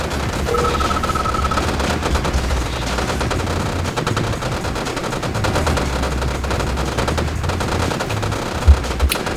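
Allied GI infantry in Red Alert 2 fire rifles at a construction yard: dense, continuous automatic gunfire rattling on without pause, loud and close, with a sharp impact near the end.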